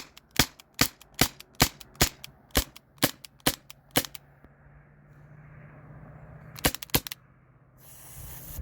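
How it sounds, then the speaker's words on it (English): An Umarex T4E TR50 air pistol fires on leftover residual pressure: about ten sharp, fairly quiet pops in a quick even rhythm, followed after a pause by two more shots, with no talking. "So I was still able to shoot like 4 mags with the residual pressure."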